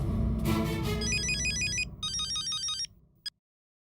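A telephone rings in electronic warbling bursts, two long rings loud and close, then a brief chirp before it stops.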